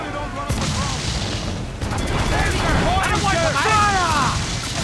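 Ship cannon fire from a naval battle in Assassin's Creed 4: Black Flag booms repeatedly at a distance amid constant battle noise, with crew voices shouting over the din.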